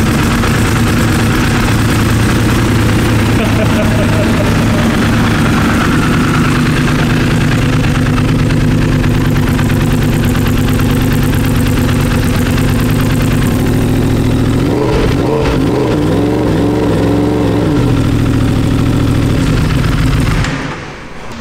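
A rebuilt Yamaha racing engine runs loud and close at a steady idle for about twenty seconds, with a dense rumbling drone and a brief revving wobble near the end.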